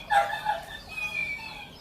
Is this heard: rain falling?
no